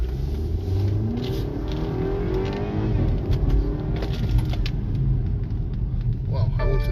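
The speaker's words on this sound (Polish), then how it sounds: "Również skrzynię przełączymy na ten tryb i zobaczcie jak bardzo fajnie przyspiesza" BMW X2 with its gearbox in sport mode accelerating hard, a loud, steady engine roar building under continuous speech from a person in the car.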